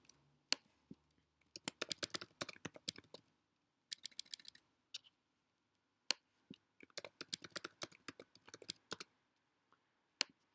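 Password keyed in on a computer keyboard: crisp, close clicks in quick irregular bursts with short silent gaps between them, and no talking.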